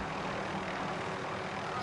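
Aircraft rotor and engine drone from a helicopter in the video game Modern Warfare, a steady broadband roar that holds at even loudness throughout with no clear voices over it.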